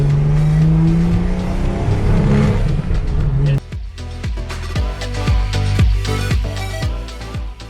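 A 1989-era Nissan R32 Skyline being tested after fixes to timing and leaks, its engine running loud and close with a rising rev early on, then rough sharp pulses and revs after a sudden drop.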